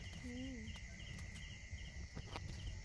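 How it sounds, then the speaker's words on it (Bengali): Crickets on a winter night drone in a steady, faint high-pitched trill beside an outdoor wood-fired clay stove where duck meat is roasting. A brief bird-like call and a few soft knocks break through. "শীতের রাতে এই যে রাতের পোকাগুলো, ঝিঝি পোকাগুলো ঝিঝি করছে"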